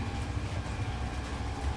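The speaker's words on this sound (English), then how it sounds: "Let the rhythm of the train be your breath." A Glacier Express train rolls through the Swiss Alps, giving a loud, steady low rumble of rail travel from inside the carriage with a faint rhythmic pulse and no voices.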